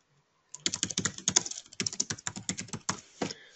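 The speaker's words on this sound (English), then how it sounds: "I need to focus on typing, but I'm still with you." Rapid, uneven keystrokes clatter on a computer keyboard as a name is typed into a vendor management program, close and fairly quiet, in bursts over a few seconds with short pauses and no voices.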